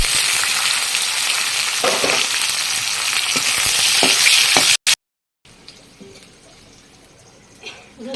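Chopped garlic and green chillies hit hot oil with cumin seeds in a pan and sizzle loudly and continuously up close, cut by a short dropout, then carry on as a softer, quieter fry.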